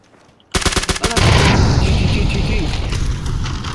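Gunfire in the online shooter PUBG (Battlegrounds): quiet at first, then a loud burst of rapid automatic shots followed by a dense, sustained roar of firing and echoing booms, very close and overwhelming, with a voice partly buried underneath.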